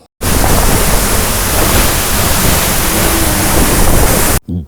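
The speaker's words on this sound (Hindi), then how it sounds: "झरने की आवाज़ से आपको अंदाज़ा हो गया होगा कि कितनी ऊंचाई से ये पानी गिर रहा है।" Tiger Falls near Chakrata in Uttarakhand thunders from a great height, a loud, dense, unbroken roar of falling water heard up close, cutting off abruptly at the end.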